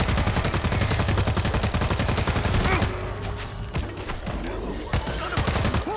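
Rapid automatic gunfire in the World War Z zombie shooter game, a dense rattling burst of shots for about three seconds, then sparser scattered shots and thuds, with voices underneath.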